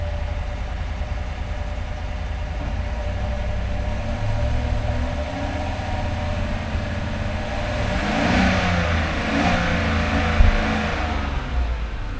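Dodge Charger engine runs near by, a deep rumbling idle that swells into a rev and settles again, loud and steady, with no talk.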